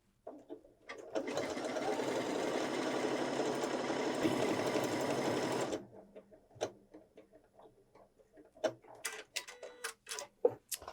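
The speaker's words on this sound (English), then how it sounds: "when you have just lettering, the machine knows that you probably don't want to do Made by Grace over and over" A Janome 6700P sewing machine stitches a run of decorative lettering, a steady, fast mechanical whirr lasting about five seconds before stopping, followed by faint clicks and handling noises.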